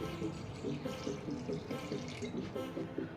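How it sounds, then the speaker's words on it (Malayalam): Water pours steadily into a cooking pot over vegetables, a continuous gurgling splash at moderate volume with no talking. "ആവശ്യത്തിനുള്ള വെള്ളം ഒഴിച്ചു കൊടുക്കാം"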